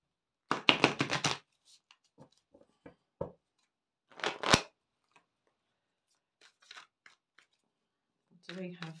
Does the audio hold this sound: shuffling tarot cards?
yes